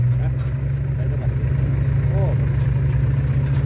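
A Kobelco SK140 Super X excavator's engine runs steadily at a low, droning idle, close and loud throughout, with a faint higher whine passing briefly over the hum.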